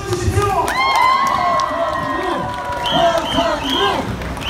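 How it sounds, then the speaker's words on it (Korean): A crowd at an outdoor Korean mayoral campaign rally in Masan cheers loudly, with shouting voices and scattered clapping, dense and close. "시민 여러분 박수 한번 주십시오"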